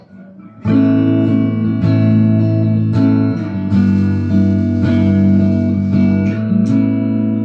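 Electric guitar played clean through its pickup, a run of loud sustained chords and notes struck roughly once a second, each ringing out with a bright attack and warm body, with no talking over it.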